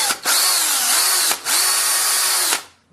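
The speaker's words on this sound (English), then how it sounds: "It's an 18-volt drill." An 18-volt cordless drill bores into the center of an iPhone 6 screen, running in three loud sustained whines with two brief pauses, then spinning down at the end.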